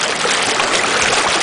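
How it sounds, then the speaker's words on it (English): St Marys Thames River floodwater rushes across a farm field, a steady broadband wash of flowing water that stays loud and even, with no voices over it. "A lot of water coming through here."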